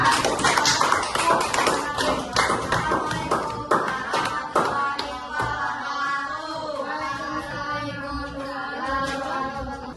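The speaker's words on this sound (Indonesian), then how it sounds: "Tepuk tangan ya untuk kelompok 2." Classroom students clap for a group after its presentation in a computational-thinking lesson, a dense burst of close hand claps that thins and fades toward the end, with faint voices underneath.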